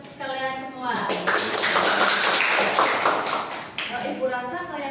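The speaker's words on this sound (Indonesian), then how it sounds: "beri aplaus buat kalian semua" A classroom of students breaks into clapping, a few seconds of dense, lively applause at moderate volume, with a teacher's voice speaking just before and after it.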